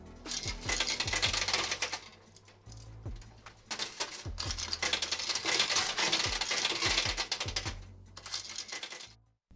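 Metal coins drop and clatter inside a coin pusher machine, a dense run of bright, close jingling impacts and rattles that keeps going with only short pauses.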